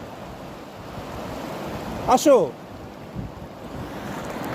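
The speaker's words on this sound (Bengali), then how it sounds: "ঢেউ বাড়তেছে, পানি বাড়তেছে।" Waves surge at a shore, heard as a steady wash of surf and wind with some microphone buffeting, while a person calls out briefly in the middle.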